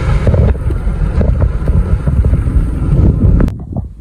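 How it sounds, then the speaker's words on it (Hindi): A cool wind blows steadily across the microphone in an open village setting in Balochistan, a loud, rough buffeting rumble that surges and gusts before easing off near the end. "ठंडी हवा चल रही है"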